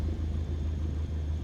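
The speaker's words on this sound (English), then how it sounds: "pull the throttle all the way out and listen to the engine" An aircraft engine at throttle idle in Microsoft Flight Simulator 2020 hums as a steady low rumble, close and even, with no talk.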